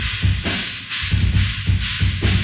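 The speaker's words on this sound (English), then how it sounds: "now the ambience microphones sound like this." Drum kit captured by room ambience microphones in a studio mix, with a repeating pattern of roomy kick thumps and washy cymbal and snare hits. Loud and reverberant with no talking.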